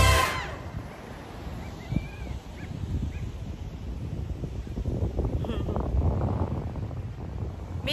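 Wind rushes over the microphone on a hilltop at the Bulusan lighthouse in Sorsogon, a low, continuous rumble, with brief faint sounds and soft movement noise underneath.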